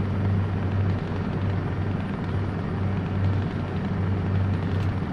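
A DAF XF Euro6 truck engine rumbles steadily on an uphill ramp, a loud, continuous low drone with no talking.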